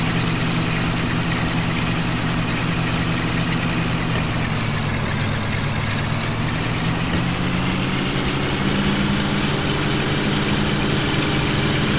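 Diesel locomotive engine in Train Simulator 2013 runs in a steady, loud low rumble with constant droning hum throughout, no talking.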